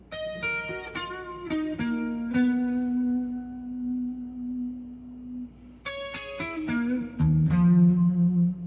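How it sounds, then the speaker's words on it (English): A guitar plays a simple, sparse lead lick: a few picked notes with long sustained bends ringing out, a pause, then the phrase repeats, close and clear with no talking. "it's just a little lead lick over top of that sounds like this."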